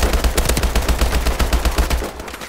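Rapid automatic gunfire from a weapon in Call of Duty: Advanced Warfare, a dense continuous burst of shots lasting about two seconds, loud and close, then trailing off.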